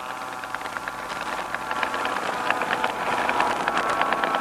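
A limited-production Forrest Edwards radial engine on a master-scale Sopwith Pup model biplane runs steadily, a close, continuous rattling buzz that swells slightly louder toward the end.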